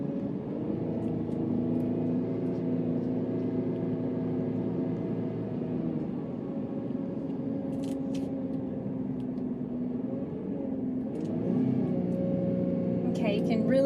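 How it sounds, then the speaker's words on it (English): A 2021 Ford F-150 Hybrid pickup towing a trailer, its engine and drivetrain droning steadily with shifting tones as it slows downhill to a stop, heard from inside the cab. "you can really hear it downshifting as I'm coming up and slowing down, coming up to a stop"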